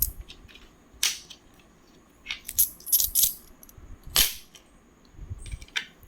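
Collectible coins, Indian and Sri Lankan commemorative pieces, are handled and dropped onto a surface, giving several sharp metallic clinks and jingles in irregular bursts, close and fairly loud with no talking.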